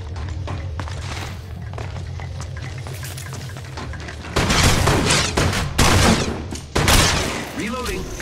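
Apex Legends Mobile gunfight with rapid, loud automatic bursts and heavy impacts in the second half, following a quieter stretch of game ambience and character voice lines.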